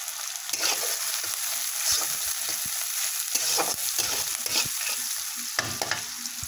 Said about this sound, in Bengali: এই পেঁয়াজটাকে এখন লাল করে ভেজে নিতে হবে।